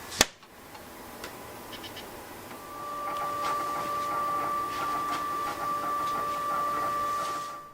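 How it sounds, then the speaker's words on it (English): A 3D printer runs quietly nearby, giving a steady high motor whine with light irregular ticks after a sharp click at the start. "I think that's the way the printer sounds."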